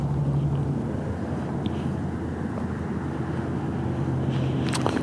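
Breezy outdoor wind buffeting the microphone during a stop on a Honda Super Cub C125 ride, a constant low rumbling roar that stays loud and steady throughout.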